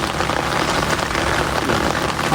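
Steady rain pours down in a coastal village during the monsoon, a dense even hiss of drops striking surfaces all around, loud and unbroken with no voices.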